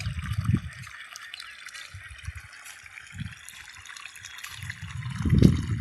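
River water flows along the bank, a soft steady trickle and babble with occasional low splashy gurgles swelling near the end.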